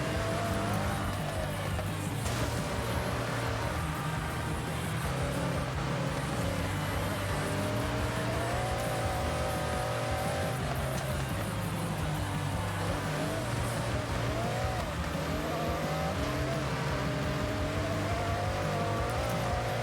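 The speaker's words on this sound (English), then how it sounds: "You start crabbing as soon as you accelerate on the snow." An American car's engine drones and revs continuously as it accelerates and slides across snow in the racing game Forza Horizon 6, a dense, steady roar with only a little faint talk.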